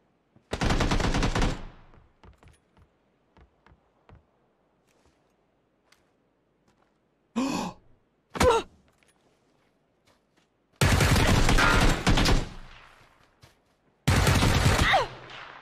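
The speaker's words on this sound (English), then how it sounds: "He's shooting at him." Gunfire in a PUBG match: loud automatic bursts near the start and end, with a couple of shorter volleys in the middle and quiet stretches between, no talking over the shots.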